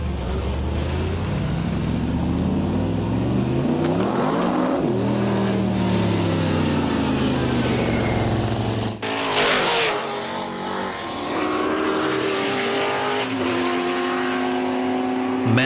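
Two race cars, an AC Cobra and an EL supercar, battle on a circuit: loud engines rev and rise through the gears, pass close by and fade, with brief tyre scrubbing, and no voices heard.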